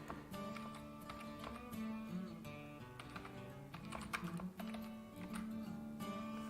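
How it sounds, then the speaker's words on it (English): Typing on a computer keyboard, a quiet run of rapid key clicks in uneven bursts, with a faint tonal hum behind it. "Such a moron sitting here typing."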